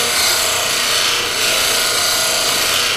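A bevel is ground while sharpening a tool, a loud, steady, harsh abrasive grinding that runs unbroken and close for the whole stretch.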